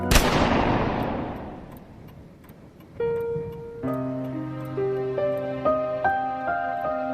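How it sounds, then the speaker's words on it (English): A single loud gunshot from an automatic pistol fired indoors in a bedroom bursts out and rings away over a few seconds, then sustained musical tones take over. "the household staff heard a gunshot."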